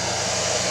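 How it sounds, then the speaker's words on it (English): A blow dryer runs in a steady, loud, continuous whoosh, held close while drying a decoupage wood pallet garden sign. "So I am going to use my blow dryer, so you will hear some noise."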